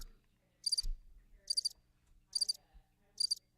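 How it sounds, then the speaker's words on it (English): Crickets chirp in four short, evenly spaced bursts of bright trills against a quiet background, with a soft low thump near the start. "You get crickets."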